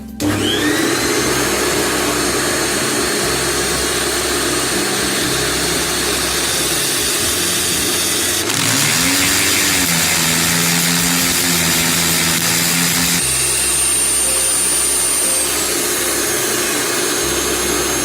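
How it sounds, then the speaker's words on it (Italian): A power drill bores a second hole into a wall for mounting a shelf, a loud continuous whine holding steady for about eighteen seconds, its pitch shifting partway through as the bit pushes into the masonry. "Andiamo a praticare il secondo foro."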